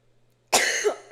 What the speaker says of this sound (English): I'm about to go into a coughing fit.